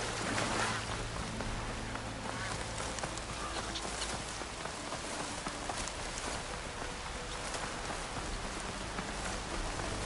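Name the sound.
rain in a video game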